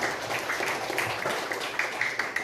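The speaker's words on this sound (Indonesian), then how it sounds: "Oke, tepuk tangan untuk ya." Schoolchildren in a classroom applauding, a steady, fairly soft wash of many hands clapping together with a few sharper claps standing out, no speech over it.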